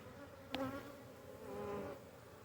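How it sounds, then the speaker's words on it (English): Honey bees buzz in a low, steady drone close by at an open hive in January, with one bee zipping past loudly near the start before the hum swells again. "and a whole bunch of mean bees"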